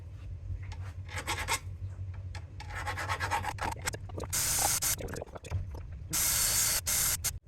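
Burrs being filed and rubbed off Land Rover Series universal joint parts, a close, steady rasping scrape in uneven strokes with harsher, louder bursts toward the end.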